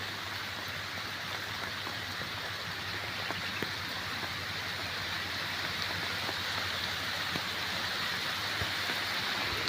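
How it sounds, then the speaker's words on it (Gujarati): Heavy rain pours down steadily on a lemon orchard, a dense hissing wash with occasional sharper drip taps, continuous and fairly distant, with no voices. "જોરદાર વરસાદ ચાલુ થઈ ગયો છે"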